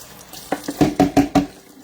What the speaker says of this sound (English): I need to rinse this out.